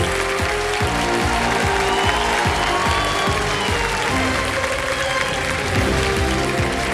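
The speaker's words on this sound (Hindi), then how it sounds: "तालियां बजती रहे इनके लिए, हर्षा जी के लिए।" A studio audience applauds a winning contestant on the quiz show Kaun Banega Crorepati, sustained loud clapping throughout with background music.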